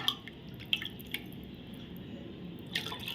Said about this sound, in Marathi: आता मी त्यामध्ये लगेच हे पाणी घालते